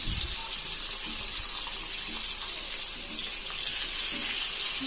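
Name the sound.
potato papad (alu papor) frying in oil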